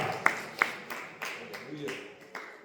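A church congregation claps in a steady, fairly quick rhythm at moderate distance, the claps mixed with a speaking voice.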